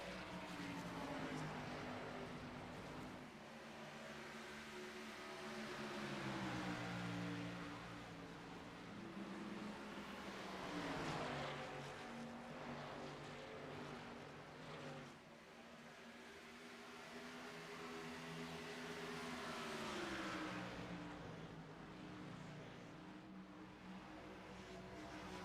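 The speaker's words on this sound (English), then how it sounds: "you can hear the rumble of these cars as they go around the track" Race cars in an Xfinity Series video game at Rockingham circle the track, making a continuous droning engine rumble whose pitch rises and falls in long sweeps as they lap. It is fairly faint, with no talk.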